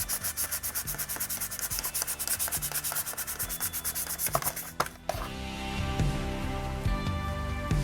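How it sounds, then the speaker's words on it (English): 1000 grit sandpaper rubs to smooth a Star Wars L0-LA59 droid model, giving a steady, rapid, close back-and-forth scraping that shifts to a denser continuous rasp partway through. "let's try grab a 1000 grit sandpaper here now and kind of smooth this all in"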